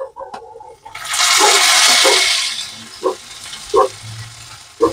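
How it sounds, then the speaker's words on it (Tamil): Coconut fries with dal and cumin in a pan for horse gram chutney, a loud hissing burst of sizzle after a few clinks, then fading with scattered stirring knocks. "தேங்காய் வறுக்கணும்"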